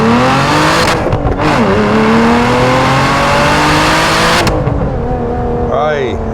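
A Lotus Emira launches hard from first gear at about 5,000 rpm with wheelspin, its engine note climbing loud and close through the revs before a sharp shift, with a voice heard over it.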